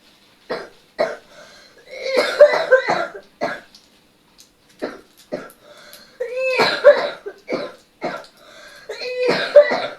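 A sick child coughs again and again at close range, in rough, throaty bursts and short clusters separated by brief pauses.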